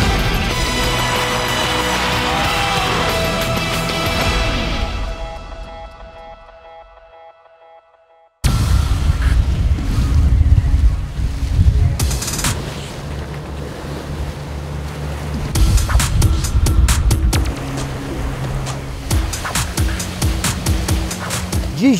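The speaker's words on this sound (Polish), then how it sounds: "Wieje ponad 35 węzłów wiatru, to jest około 70 km na godzinę." Wind above 35 knots blows over the Baltic Sea on a small sailing boat. Loud roaring gusts and rushing water fill the clip, after a brief fade to near silence, with heavy microphone buffeting.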